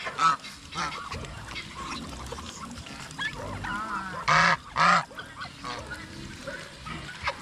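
Geese honk on a farm where ducks are also kept, with several loud nasal honks close by, two long strong calls near the middle, over softer background calls.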